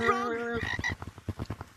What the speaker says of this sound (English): It's a frog gun.